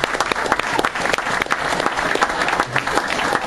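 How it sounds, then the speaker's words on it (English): A comedy club audience at a Delaware comedy night applauds steadily, a dense wash of many hands clapping close and loud, with some scattered crowd noise throughout. "another round of applause for everybody who's gotten up here"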